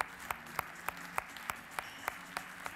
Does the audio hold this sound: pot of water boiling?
no